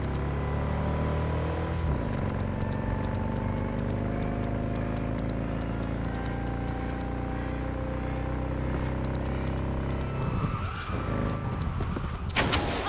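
A car engine drones steadily at speed in Cyberpunk 2077, its pitch rising and shifting gradually, with a sharp burst of noise near the end.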